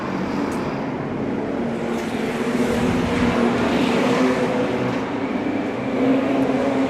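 Superstock cars racing around the Paradise Valley oval at a charity night meeting, a dense steady engine roar with a constant low drone, loud and unbroken throughout, no talk over it.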